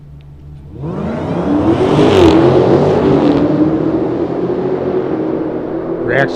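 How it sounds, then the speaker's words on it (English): At a drag strip, a race car revs near the starting line, the engine swelling from a quiet idle into a loud, sustained roar that wavers slightly and holds, with a sharp burst near the end. "And they bring the car forward."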